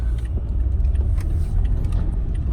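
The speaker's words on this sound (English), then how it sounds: "And that's a huge truck." A large truck passes close by, a loud, heavy low rumble that fills the whole short moment without letup, with no voices.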